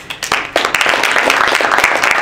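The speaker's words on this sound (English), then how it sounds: "I need you to clap for yourselves" Indoor audience at an entrepreneurship event clapping for themselves, a short burst of many hands building quickly into steady close applause.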